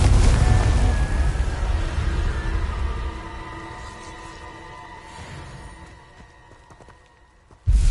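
A Confringo blasting spell in Hogwarts Legacy erupts with a loud booming explosion at the start, its rumble and ringing tones fading over several seconds before a sudden sharp burst at the very end.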